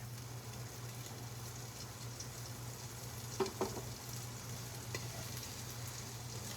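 Onions cook in a pan at a home meal prep, giving a quiet, steady sizzle under a low constant hum, with a couple of brief stirring knocks midway and no voices.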